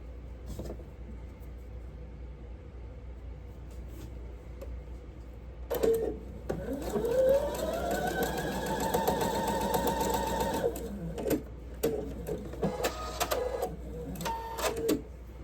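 A sewing machine stitches scrap fabric after its top thread tension was adjusted, a steady mechanical whir that starts with a few clicks and runs for several seconds before slowing and stopping, followed by scattered handling clicks.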